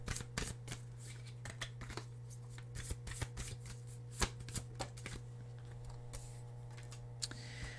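Tarot cards being shuffled at close range, a run of soft riffling slaps and crisp flicks in uneven bursts over a steady low hum, fairly quiet, with no talk.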